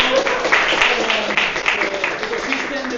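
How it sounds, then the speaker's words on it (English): Applause from an audience at a privacy and scaling tech community event, steady and moderately loud for about three seconds with faint voices mixed in. "A big applause for him."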